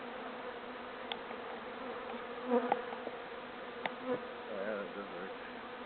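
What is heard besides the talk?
honeybees buzzing during hive inspection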